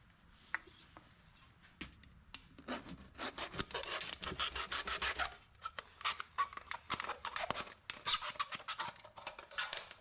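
Metal shears or a blade cut a small cup from an old metal can, giving a close run of short rasping, scraping strokes in irregular bursts with brief pauses and no talking.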